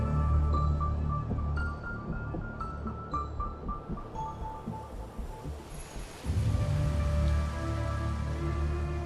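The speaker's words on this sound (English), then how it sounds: "This rain, it's finally happening." Steady rain falls in the video game Wuthering Waves, a dense continuous patter with a low rumbling bed and faint game tones over it, without speech.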